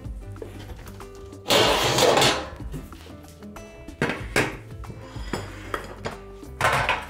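A metal baking tray is pulled out of a drawer and handled, giving a loud scraping rattle, then several shorter clanks and bumps spaced across the moment, with no talk.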